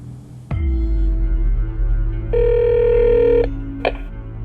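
A telephone line sounds in the early morning, with a low hum, then a steady electronic ringback tone for about a second and a short chirp as the call connects.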